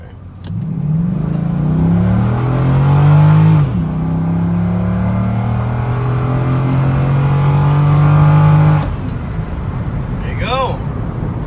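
A Chevrolet Corvette C6 accelerating hard, its engine note climbing steadily through two long pulls with a brief shift between them, loud and close, then settling at the end.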